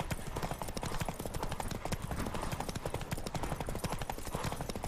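Hooves clatter in a rapid, steady galloping rhythm in The Witcher 3: Wild Hunt, loud and continuous, with a busy game background mixed in.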